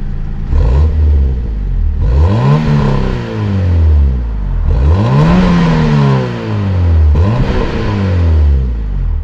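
A car engine revs hard three times, each rev surging and dropping back, with a loud, throaty exhaust from a muffler mounted under the rear seat, close and unbroken by talk.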